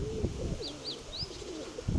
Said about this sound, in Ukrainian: Все, відкрив голубів, більше не буду сьогодні достатньо.